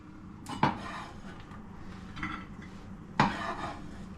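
Cut okra set down onto a plate while stir-frying mixed vegetables, giving two sharp clinks of dishware about two and a half seconds apart over soft, quiet kitchen background.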